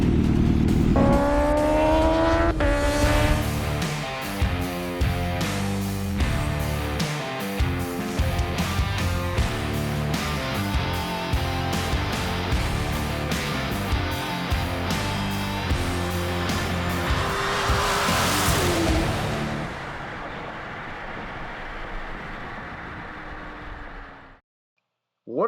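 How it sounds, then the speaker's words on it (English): A Kawasaki Ninja H2R and a Tesla Model S Track Plaid drag race from a dig down a half-mile airstrip at Marion Municipal Airport, Indiana. A loud, rising, high-revving engine roar holds for about nineteen seconds, then fades away. "Can a Ninja H2R beat our Tesla Model S Track Plaid from a dig on this half-mile airstrip?"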